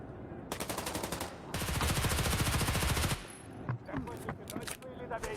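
Rapid automatic gunfire from 40-round magazines in a competitive video game match, with dense full-auto bursts that swell into a long sustained volley, then scattered shots while a commentator talks over the action.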